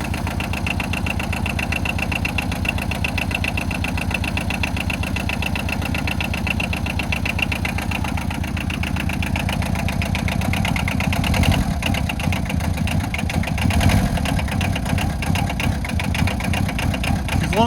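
A diesel quad ATV engine idles steadily with a low, knocking rhythmic chug close to the microphone, growing a little rougher partway through.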